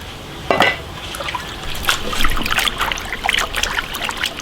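Fish slices for boiled fish being rinsed in a bowl of clean water by hand, giving close, irregular splashes, sloshes and drips.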